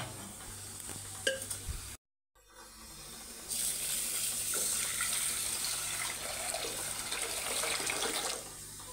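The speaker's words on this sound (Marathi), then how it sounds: "चला त्याच्यात टाकतो पहिले पाणी." Water pours steadily into a pressure cooker for dal and rice in a home kitchen, a continuous close splashing stream after a brief pause and a few small clinks.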